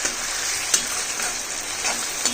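Onion, garlic and ginger garlic paste fry in hot oil with a steady close sizzle, punctuated by a few sharp stirring scrapes, and no talking.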